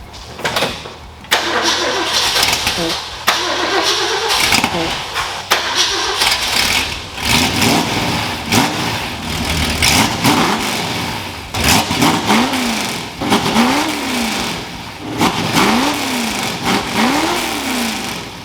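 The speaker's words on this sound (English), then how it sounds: "So it's pretty much ritual around here to fire it up right off the X-pipe." A 1966 Ford Galaxie's big-block V8, running open off the X-pipe of a NASCAR-style exhaust, cranks and fires up loudly, then barks through a series of sharp revs, each rising and falling before settling back to a rumbling idle.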